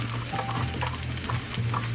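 Potatoes fry in a hot pan with a steady, close sizzle and crackle that never lets up, with faint stirring scrapes and no voices.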